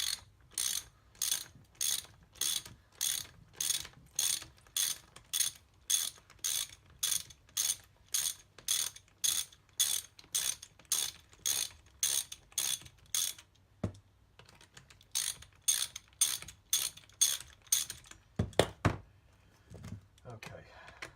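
A ratchet wrench clicks rapidly in regular bursts as it undoes a nut on the timing cover of a BSA A70L motorcycle engine. The close, crisp ratcheting runs for most of the stretch with a short pause midway and a few louder knocks near the end.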